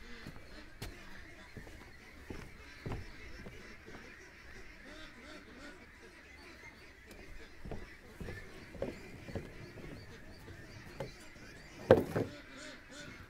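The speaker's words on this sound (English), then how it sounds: "the ducks are losing it over there." Several ducks quack and squabble at a moderate distance, with crow-like caws mixed in and a louder burst near the end.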